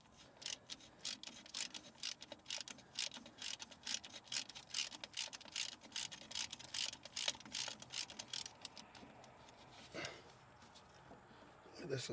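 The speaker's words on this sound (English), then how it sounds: "This is a nifty ratchet right here. Western Auto." A Western Auto ratchet wrench clicks in bursts of rapid, fairly faint ratcheting, with brief pauses between runs.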